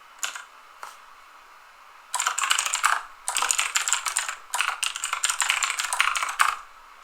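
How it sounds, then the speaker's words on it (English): Rapid bursts of keystrokes on a computer keyboard, a few isolated taps at first, then dense, fast clattering typing in several runs with short pauses, close and clear with no talking. "I'm going to go ahead and type it."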